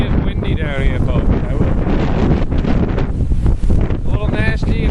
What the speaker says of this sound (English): It is windy down here, folks.